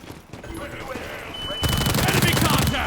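Rapid bursts of M416 assault rifle gunfire in a video game, starting quieter and then turning into a loud, dense stream of shots toward the end.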